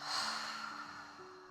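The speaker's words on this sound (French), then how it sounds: "Expire par la bouche." A single slow breath is exhaled through the mouth during a facial yoga session, a soft airy sigh that starts full and tapers gently, heard close and alone.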